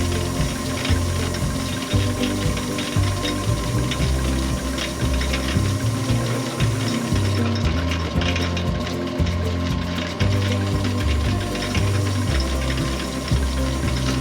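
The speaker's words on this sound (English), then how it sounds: "Take the scratches out of the inside of the bowl." Brillo pad scrubbing scratches out of the inside of a handmade tin bowl, a steady rhythmic scraping and rubbing that continues without pause, close and moderately loud.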